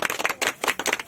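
Hands clap in quick rhythmic bursts during a Chhattisgarhi wedding ritual. Several sharp, close claps come in a steady beat over about a second.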